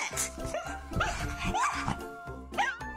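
A dog barks and yips excitedly on the way to the vet, giving a rapid series of close, high-pitched yelps and whimpery barks with a person's voice mixed in.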